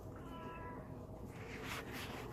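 A pet cat meows at home, wanting water because her dish is empty, with a couple of clear, drawn-out meows close by over a steady background hum and no talking.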